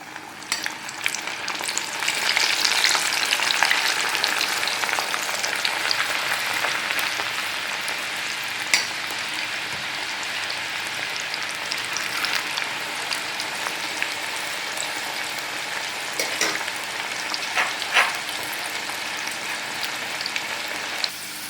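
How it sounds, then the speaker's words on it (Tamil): Channa dal fries in hot oil for a crunchy snack, giving a continuous, even sizzle with stirring scrapes throughout and a few sharper pops, with no voices. "இந்த மாதிரி கரண்டி தான் நம்ம கொஞ்சம் கொஞ்சமாக எண்ணெயில் ஆட் பண்ணிடணும்"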